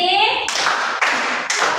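A classroom of children claps a rhythmic cheer, with sharp bursts of synchronized clapping arriving in a few quick groups, loud and close, after a short stretch of voices.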